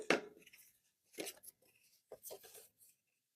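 A paper card is folded back over into a valley fold, making three short, crisp rustling crinkles with quiet gaps between them, close and fairly soft.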